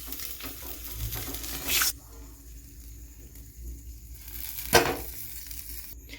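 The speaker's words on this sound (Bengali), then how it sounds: "এভাবেই লালচে লালচে করে আমাদেরকে মাছগুলোকে ভেজে নিতে হবে।" Rui fish pieces frying in hot oil give a steady low sizzle with occasional sharp crackles and spits, faint and close, without talk.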